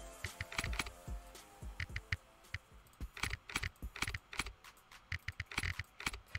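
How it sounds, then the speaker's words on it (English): Fast typing on a computer keyboard, loud irregular bursts of clattering keystrokes close by with short pauses between flurries, and no talking. "I'm literally just pounding through keys."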